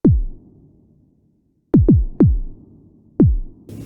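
Synthesized bass drum patched on a Behringer 2600 synthesizer: booming kicks with a quick downward pitch sweep, one hit, a pause, then three quick hits and a final one, each decaying dryly.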